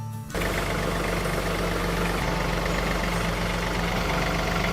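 A tractor engine runs steadily while backing up to hook a trailer, starting abruptly and then holding a loud, low, rumbling drone with no talk over it.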